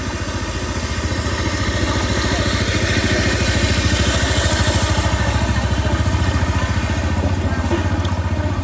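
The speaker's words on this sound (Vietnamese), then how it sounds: "Xe máy mấy đứa nó đi lội lụt này." Motorbikes ride through flood water on submerged Hoi An streets, their engines a loud, continuous, steady drone with no voices over it.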